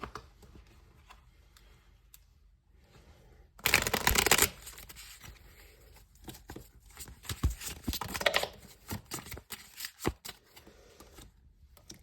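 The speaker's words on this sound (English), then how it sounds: "I'm gonna quickly shuffle them first though." A deck of cards is shuffled in a loud riffle burst, followed by softer card handling, clicks and shuffling taps.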